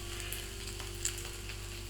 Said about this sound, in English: That is just sizzling away.